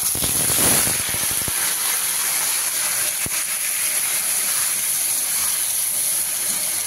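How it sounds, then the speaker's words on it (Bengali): Ginger, onion and garlic spice paste sizzles in a hot pan, a loud continuous hissing fry with a few clattering stirs at the start, steady throughout. "এবার আমি দিয়ে দিচ্ছি মশলাটা।"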